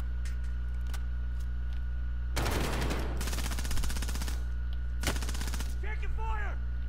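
Bursts of automatic gunfire crackle through a Call of Duty Warzone match: a long rapid volley, a short pause, another dense stretch, then a brief final burst, over a steady game hum with faint voice chatter.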